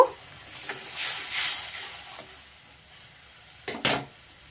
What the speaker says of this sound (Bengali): হলুদটা দিয়েও আমি কিন্তু এই টক জলের মধ্যে মিশিয়ে নিচ্ছি